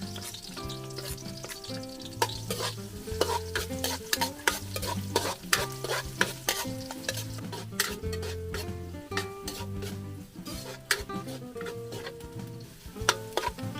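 Ginger sautéing and sizzling in a pan for spicy chicken adobo in coconut milk, with steady frying hiss and frequent spatula scrapes and clinks against the pan, outdoors in a farm-style kitchen.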